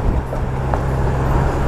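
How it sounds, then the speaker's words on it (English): A Jeep with noisy tires drives past on a road, a steady close roar of engine and tire hum that fills the whole moment. "let me get this Jeep go by with its noisy tires"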